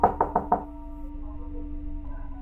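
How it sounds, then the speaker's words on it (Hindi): Four quick knocks on a door late at night, close and distinct, followed by a faint lingering hum, used as a horror story sound effect. "उनके घर का दरवाज़ा किसी ने खटखटाया"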